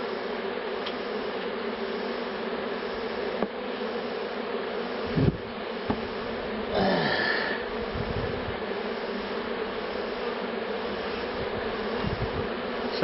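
A honey bee swarm hums densely around freshly built comb. The buzzing is steady and close, with a few individual bees flying past louder near the microphone.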